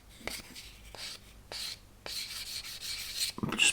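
Short bursts of close, quiet sanding scratches with 600-grit paper on a mold seam of a 1/200 plastic model of the Scharnhorst, several strokes with brief pauses between them.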